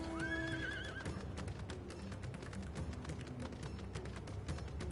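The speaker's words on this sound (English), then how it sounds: "hop on my horse and trot to wherever we're going" A horse mount in Final Fantasy XIV whinnies clearly near the start, followed by a steady clip-clop of trotting hooves that runs through the rest of the passage over a busy game background.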